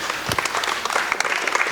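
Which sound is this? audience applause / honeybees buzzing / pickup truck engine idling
audience applause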